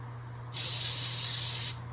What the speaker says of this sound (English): you're going to take your spray adhesive, and I do a half at a time, and spray it on